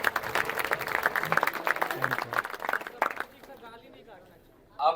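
An audience at a film festival screening in Meerut claps for the director, with a burst of scattered, uneven applause that thins out after about three seconds, leaving quiet room sound and a brief voice near the end.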